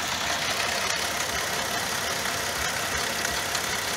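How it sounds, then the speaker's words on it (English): A Cadillac 2.8 or 3.6 engine idles roughly with a multiple-cylinder misfire, including cylinder six, making a steady close rumble with uneven knocking pulses and no talking. "it seems like cylinder number 6 also misfiring a little bit"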